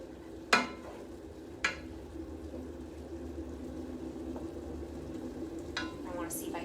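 Ground beef and onions frying in a pan, a soft steady sizzle close by with a couple of sharp utensil clinks against the pan early on.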